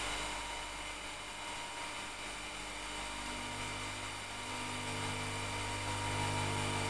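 An electric motor runs with a steady whine and broad buzz, close and constant, and grows slightly louder and deeper toward the end as its torque increases.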